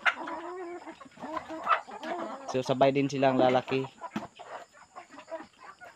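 Native chickens cluck in a backyard flock where chicks are raised together, the calls rising and falling close by while someone speaks Filipino over them.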